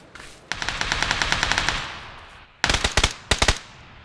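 Gunfire in the battle royale video game PUBG, a long rapid burst of automatic fire followed by a pause and two shorter, louder volleys, fairly close, with no talk over it.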